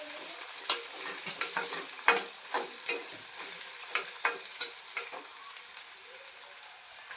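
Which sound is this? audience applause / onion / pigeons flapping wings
onion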